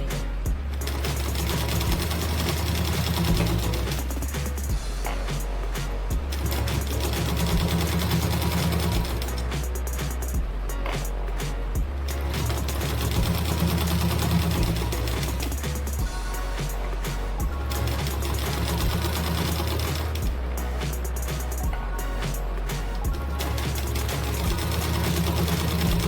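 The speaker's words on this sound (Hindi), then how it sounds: "इस तरह से करते हुए पाइपिंग निकालते हुए थोड़ी सी दूरी पर सिलाई लगा देते हैं।" A sewing machine stitches piping onto a blouse, giving a steady close mechanical whir with a rapid needle rhythm that runs in long stretches broken by brief pauses.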